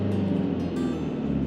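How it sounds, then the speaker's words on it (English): A manual car's engine revs high and steady for a beginner driver holding too much accelerator, a continuous near drone with no talk over it. "The accelerator's way too high."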